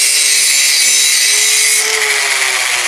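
A power grinder working a weld on a Caterpillar forklift headache rack, a loud, steady high-pitched metal grinding whine that shifts slightly in tone partway through, close up with no talk.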